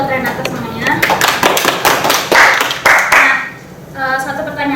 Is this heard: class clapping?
yes